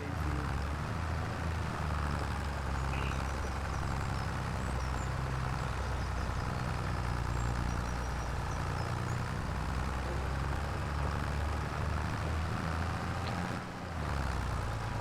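Tractor engine in Farming Simulator 25 labouring up a hill, a steady, loud low drone that holds without a break for the whole stretch, dipping briefly near the end.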